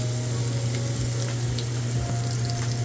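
Shallots, carrots and scallions going into a hot frying pan for chicken fried rice, with a steady, dense sizzle and crackle beneath a low hum, continuous and close, with no one speaking.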